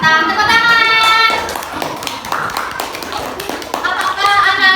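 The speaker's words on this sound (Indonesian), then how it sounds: "Magnet Batam. Tepuk tangan." Children in a classroom applaud a group presentation about magnets, with a scattered patter of hand claps and taps beneath ongoing adult speech.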